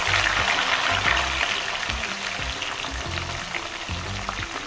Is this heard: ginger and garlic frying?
yes